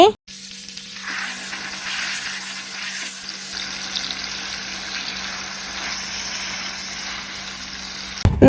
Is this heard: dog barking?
no